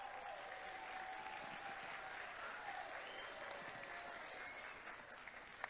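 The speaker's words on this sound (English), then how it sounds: "Clap it up." Students applauding at a senior class assembly, a broad, steady roll of many hands clapping heard from a distance, quiet and continuous with no talk over it.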